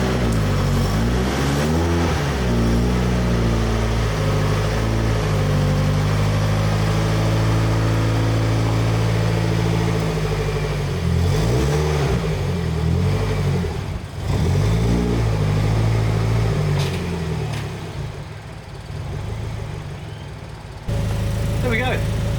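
A Volvo S40 engine fitted with a Holset HX40 turbo runs loud and close, with repeated revs rising and falling over a steady idle before settling lower near the end.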